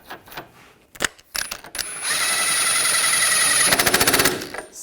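Ratchet tightening the rear axle nut on a Nissan Rogue wheel hub during a wheel bearing and hub assembly replacement: a few separate clicks, then a close, loud, steady rapid ratcheting burst lasting several seconds, with no talk.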